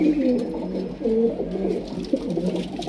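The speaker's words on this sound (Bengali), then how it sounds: "পায়রা" Pigeons coo in low, throaty rolling calls, several phrases repeating close by over a faint background hum, in a pigeon loft at Dakshineswar.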